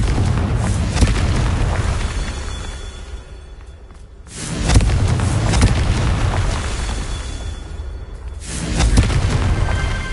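The Confringo blasting spell from Hogwarts Legacy explodes in a loud, full booming blast with a rushing whoosh. A second heavy explosion follows a few seconds later, both filling the space with rumbling noise.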